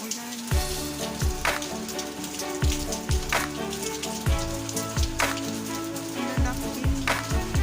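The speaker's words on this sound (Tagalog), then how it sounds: "Lakas ng ulan." Heavy freezing rain mixed with ice pellets pelting a surface outdoors, a dense steady patter with sharper individual hits scattered throughout, loud and close.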